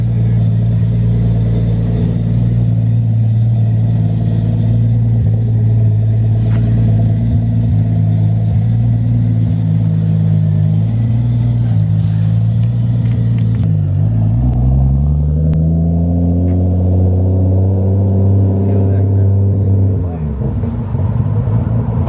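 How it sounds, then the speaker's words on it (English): A Toyota Supra fitted with a new McLeod triple disc clutch idles quietly, its steady low engine hum shifting in pitch partway through, with no talk over it. "I'm surprised how quiet his car is."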